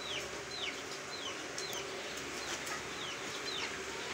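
Chickens and roosters on a home farm cluck and chirp in short repeated calls over a quiet rustling background, with occasional wing flaps, moderately close and no talk.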